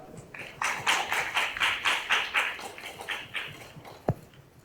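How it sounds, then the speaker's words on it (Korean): Applause from a small audience at a Korean shareholders' press conference, a few seconds of rhythmic clapping in close bursts that fades out, ending with a single sharp knock. "박수 부탁드립니다."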